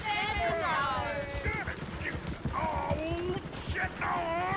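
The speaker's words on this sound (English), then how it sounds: "Oh, shit, the horses! Damn horses!" Horses gallop and whinny in Red Dead Redemption 2 during a bar fight scene, with rising and falling neighs over hoof clatter, close and loud, mixed with voices talking throughout.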